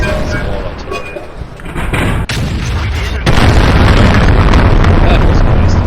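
In the World of Tanks video game, a small artillery piece with a long reload fires a shell that lands: a sharp crack, then a loud, rumbling boom that swells and holds to the end.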